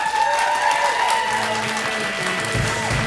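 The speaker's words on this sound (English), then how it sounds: "How about a big round of applause for David Acker?" A comedy-show crowd applauds a stand-up comic being welcomed to the stage. The clapping is loud and continuous, with cheering and tonal sounds running underneath throughout.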